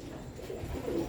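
Rooftop pigeons coo softly nearby, a low, throaty murmur rolling through a brief moment with no talking.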